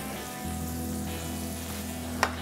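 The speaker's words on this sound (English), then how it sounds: "we're cooking in cast iron, old school. Get that good sear on there." Food sears in butter in a cast iron pan, a steady soft sizzle and crackle throughout with a brief sharp pop near the end, fairly quiet and close, no talking.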